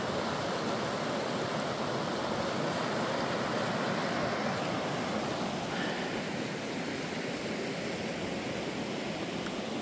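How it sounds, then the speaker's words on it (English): The Duckabush River in Washington state flowing, a steady broadband rush of clear water running continuously without pause, fairly close and even in level, with no talking. "I believe I think this is the Duckabush River."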